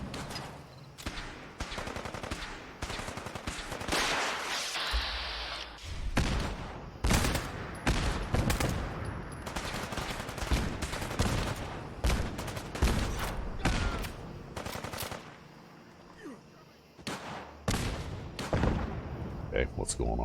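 Rapid gunfire and grenade blasts in the video game Fallout 4, dense overlapping bursts and thuds over a long stretch with a voice talking in between.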